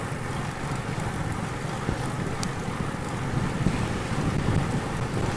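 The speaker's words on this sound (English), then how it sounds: "Wind has definitely kicked up a bit now." Wind gusting across Lap An Lagoon in Vietnam, a steady broadband rush with low buffeting on the microphone that holds throughout, with a faint misting drizzle in the air.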